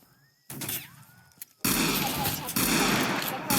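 Gunfire erupts in a Wild West heist video game: a quiet start with a faint whistle gives way to a sudden loud, dense burst of overlapping shots and chaotic clatter that continues close and intense to the end.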